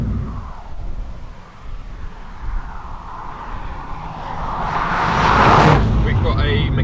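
A Mini GP3 hatchback, with 300-plus horsepower and a front limited-slip differential, is driven hard. Its engine roar and road noise swell toward a louder, rising burst near the end, while a voice talks over part of it.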